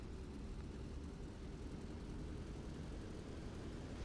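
An F4U Corsair's engine held at 1,000 RPM while taxiing in the DCS flight simulator game: a faint, steady low drone that rumbles on evenly without change.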